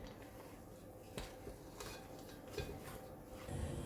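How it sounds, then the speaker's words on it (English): Thick chocolate orange cookie dough is stirred in a bowl, with quiet scraping and a few clinks and knocks of a utensil against the sides at irregular moments, faint and close, with no talking. "So we'll just give that a mix around."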